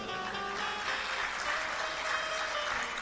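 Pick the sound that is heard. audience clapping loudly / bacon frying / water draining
audience clapping loudly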